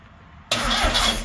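A brand-new fuel pump on a 1969 Volkswagen Baja Bug hot rod switches on suddenly after a quiet moment and keeps running with a loud, steady, close-up whirring hum.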